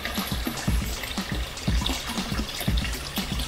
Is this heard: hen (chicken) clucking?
no